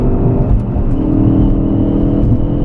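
A Ford Focus RS, driven hard on South African roads, engine roaring loud and close with rising, sustained revs and a steady throaty drone throughout.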